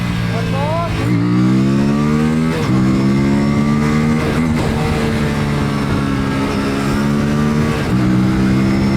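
An Aprilia Tuono 457 motorcycle engine revs up close through repeated gear changes, each rising whine cut off by a shift and followed by another climb, loud and continuous throughout the ride.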